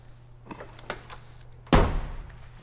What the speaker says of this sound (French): Allez, on va s'amuser à ouvrir cette porte-là, par exemple.